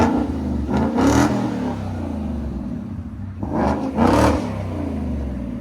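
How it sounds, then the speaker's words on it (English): Ford Mustang GT V8 fitted with a Double Helix exhaust, revved hard twice with a deep rumbling idle between the two sharp climbs, close and loud with no talking. "Let you hear it with the double helix. Ford Mustang GT."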